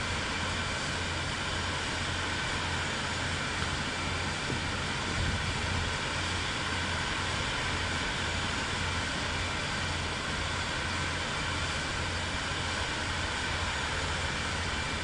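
Airplane taxiing in Microsoft Flight Simulator 2024 at St Barts, a steady, loud broadband engine roar with a faint low pulsing hum underneath, unbroken throughout.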